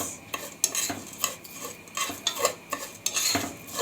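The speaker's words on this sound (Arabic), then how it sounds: "نقلب فيها كده شويه" Spoon stirring vermicelli and ghee in a pot, a series of quick metallic scrapes and clinks in an irregular rhythm, close and fairly loud with a faint sizzle beneath, no talking.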